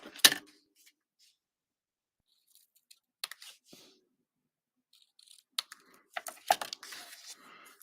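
Scissors snipping the tails of ribbon in a paper craft, a few sharp close clicks and cuts scattered between stretches of near silence, ending in a quick cluster of snips.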